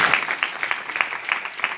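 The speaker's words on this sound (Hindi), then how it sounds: "इनके बच्चों के लिए कुछ जोरदार ताली बजा" Audience clapping at a Bhagwatam gathering in Govindpuri, Delhi: a moderate, continuous patter of many hands with uneven bursts, slightly distant and without clear talk.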